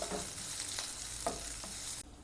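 Chopped green chillies sauté in oil for an egg paratha, making a steady close sizzle broken by a few light stirring clicks, then cutting off suddenly.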